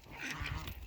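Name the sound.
geese on a farm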